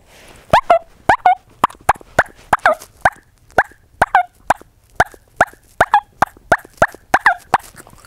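Imitation of an aggressive female wild turkey: a loud, close run of about twenty sharp, cutting clucks and yelps in quick, slightly uneven rhythm, with no other sound around them.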